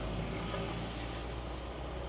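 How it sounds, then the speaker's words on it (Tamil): Strong wind and rain from Cyclone Ditwah at Mannar, a steady, dense roar of gusting wind mixed with rainfall that holds at a constant level throughout, with no speech. "காத்துப்பா காத்து மழையும்."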